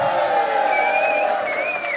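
Audience at a live stage performance in the Netherlands cheers loudly, a dense crowd roar with rising whoops and whistles over steady noise, sustained throughout.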